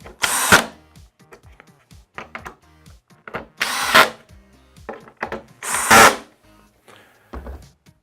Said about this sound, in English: we're just going to finish screwing this on